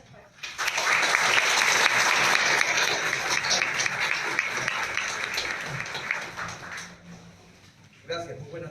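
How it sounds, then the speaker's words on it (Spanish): An audience at a constitutional law lecture session applauds a guest speaker, a full burst of clapping rising quickly, holding strong for several seconds, then thinning out before a voice starts speaking at the end. "Fuertes aplausos para él."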